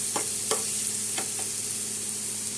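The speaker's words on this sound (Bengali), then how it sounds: "পেঁয়াজ আমার ভাজা হয়ে গেছে।" Steady sizzling of chopped onions frying in a pan, with a few soft scraping stirs over the continuous hiss.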